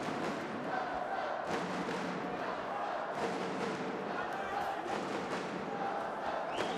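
A huge crowd cheers in a boxing arena during a men's light welterweight semi-final bout, a steady, dense roar of voices with scattered thuds and shouts rising throughout.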